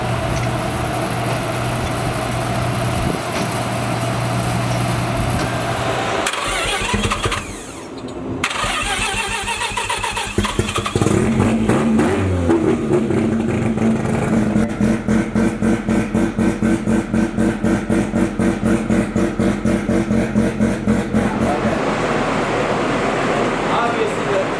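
A 950-horsepower Mustang drag car with a Haltech ECU cranks and fires up during remote tuning at a performance shop. It settles into a loud, choppy idle with a steady rapid pulse, close and heavy throughout.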